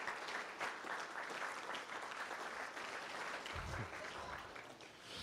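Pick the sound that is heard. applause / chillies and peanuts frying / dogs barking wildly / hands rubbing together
applause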